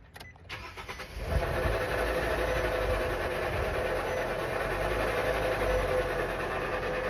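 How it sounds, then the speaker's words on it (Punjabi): A vehicle's faulty transmission with a mechanical fault and a P0746 pressure control solenoid A code, heard as a steady, loud mechanical drone that starts abruptly after a brief startup rattle and runs on without pause. "ਜੇ ਇਸ ਤਰ੍ਹਾਂ ਆਵਾਜ਼ ਕਰਨ ਲੱਗ ਜਾਏ ਟਰਾਂਸਮਿਸ਼ਨ"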